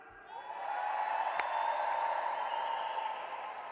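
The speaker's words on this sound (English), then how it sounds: "So I want a big cheer" An audience at an awards ceremony swells into a loud cheer with whoops, building quickly and holding as a broad roar, with a brief sharp clap near the start.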